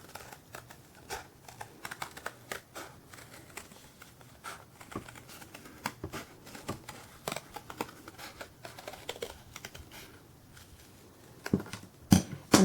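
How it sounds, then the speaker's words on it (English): Scissors snipping a plume shape out of folded paper, a long run of quiet, close, irregular crisp snips and clicks, with the paper rustling a little louder near the end. "So the instructions will tell you to fold your paper in half and then cut the shape out."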